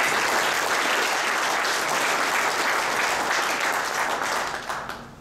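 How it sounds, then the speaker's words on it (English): A crowd of parents applauds a hockey speaker at a parent night, a thick, sustained wash of clapping that stays level before quickly fading out at the end. "Please give a round of applause for Ken Martel."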